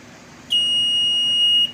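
The instrument cluster of a John Deere 5210 4WD tractor gives its startup beep: a single loud, high, steady electronic tone holding for about a second, then cutting off cleanly.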